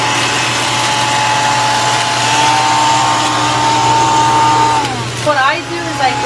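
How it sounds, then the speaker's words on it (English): A hair dryer blowing to heat-shrink plastic wrap around a gift basket, a loud steady whirring roar that holds for several seconds and then winds down as the pitch drops, with a voice speaking faintly underneath. "What you're gonna need to do this is a heat gun, or a hair dryer works fine."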